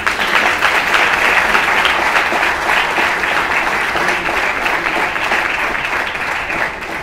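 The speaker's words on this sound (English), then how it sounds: "I think Office deserves some round of applause," A crowd applauds steadily, dense clapping that stays loud and even throughout before easing slightly at the end.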